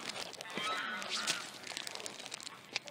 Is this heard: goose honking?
yes